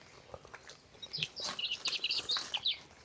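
Birds chirp and sing in bright, quick bursts at a campsite among trees, growing busier after the first second, with a soft outdoor background and no talking.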